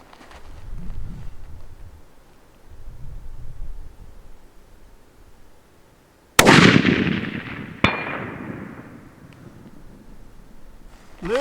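Outdoors with wind and rumble, a 6.5 PRC rifle fires a sharp, loud shot that rings briefly, followed about a second later by a fainter clang from a steel target downrange.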